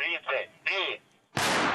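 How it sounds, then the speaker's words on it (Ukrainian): Artillery gun fires during drills at a training ground in an eastern conflict zone: one loud, sharp blast with a long broadband tail follows a voice talking. "Артилеристи відпрацьовують ураження позицій супротивника."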